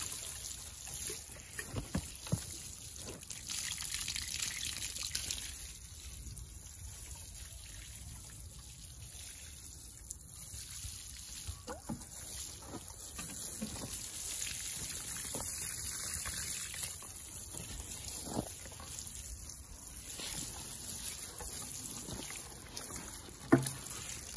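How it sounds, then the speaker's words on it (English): Water trickling and splashing onto spring onions growing in a garden bed, a steady watery patter with light splashes over about twenty-four seconds, no talking. "how to water it."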